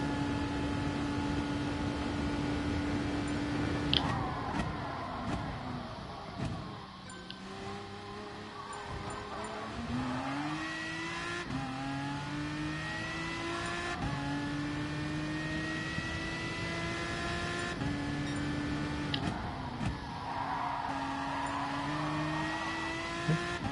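GT Sport race car on a qualifying lap, engine revving up and down through gear changes with rising pitch sweeps, steady and loud throughout, with brief tire noise.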